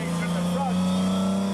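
An MGC's inline-six engine, tuned to 150 horsepower with a third carburettor and raced in a Romanian hill-climb championship, gives a steady, sustained drone with a strong low hum beneath a speaking voice.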